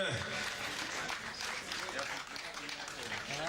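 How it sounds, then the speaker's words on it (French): Spectators at a hill climb prize-giving in Dolé applaud a winner, a moderate, fairly distant patter of clapping that runs steadily under a voice speaking in French. "on applaudit bien fort Régis"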